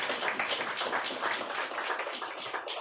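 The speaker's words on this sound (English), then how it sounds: "Let's give them a round of applause" Audience applause at a poetry festival in Southern California, a dense, steady wash of many hands clapping at moderate distance, continuous for the whole stretch with no voices standing out.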